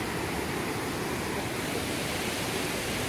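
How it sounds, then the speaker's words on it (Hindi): A mountain stream near Palampur, Himachal Pradesh, rushes loudly and steadily, a dense continuous roar of flowing water close by with no talk over it. "आवाज पानी की, खतरनाक आवाज आ रही है"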